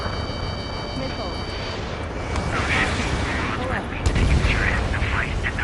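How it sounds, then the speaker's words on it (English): Gunfire and missile impacts in the Ace Combat 7 air combat game thump and crack under constant radio chatter, with a loud blast near the end standing out from the steady rumble. "We're taking fire from our own allies."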